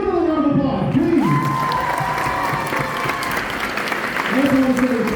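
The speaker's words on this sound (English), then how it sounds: "Give him another round of applause, please." A high school audience claps and cheers loudly for a guest, with shouts and raised voices on top of steady applause across the whole stretch.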